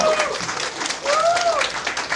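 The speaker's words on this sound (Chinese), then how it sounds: "大家再一次给他们热情的掌声" An audience at a live event applauds for about two seconds, a diffuse burst of clapping mixed with voices and some whistle-like tones.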